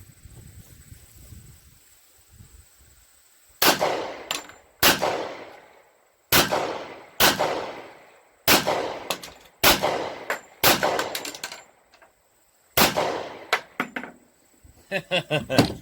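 A .45 ACP handgun fired at a half-gallon ice target outdoors: about ten sharp, loud reports, each with a ringing decay, some in quick pairs and others spaced a second or more apart.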